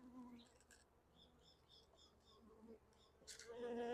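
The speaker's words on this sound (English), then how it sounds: "they're starting to buzz me now" Honey bees buzz around a beekeeper working the hive frames during a Varroa mite treatment, a faint steady drone with soft higher whines drifting close and away, quiet outdoor ambience underneath.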